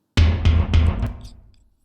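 Four quick tom drum hits in a descending run, punchy and close, then a short ringing decay into silence.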